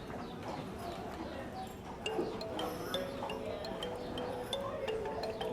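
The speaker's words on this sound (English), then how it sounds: "Those carriages are working this morning." Horse-drawn carriages pass on a warm morning, hooves clip-clopping in scattered, fairly faint knocks over steady outdoor background noise.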